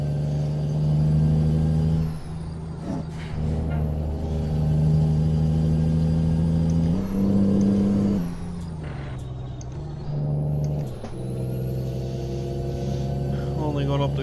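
A heavy truck engine in American Truck Simulator hums steadily and rises and falls as it revs through the gears, with brief air-brake hisses now and then under someone talking.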